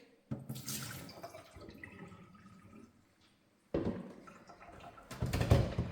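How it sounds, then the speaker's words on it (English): Water from the tank of a Baby Brezza Formula Pro Advanced machine poured into a sink, two close bursts of splashing and running water separated by a quiet gap, the second ending in a louder gush. "Remove the water tank and empty any excess water into the sink."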